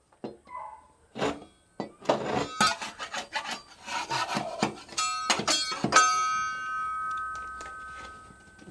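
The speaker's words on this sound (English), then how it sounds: "Jam corner cement up in there." Scraping and dabbing of corner cement being pushed by hand into a crack in a drywall ceiling, a series of short, close rasping strokes with pauses, ending in a faint lingering ring.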